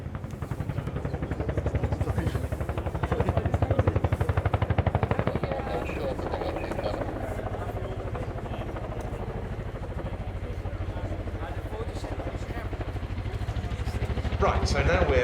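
An RAF Chinook HC.5 twin-rotor helicopter in a flying display at RIAT airfield, a loud continuous rotor thump and turbine roar that swells slightly as it repositions, heard steadily throughout with no talk.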